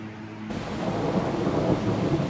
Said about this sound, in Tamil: இரவில் வந்த இடிமின்னல்.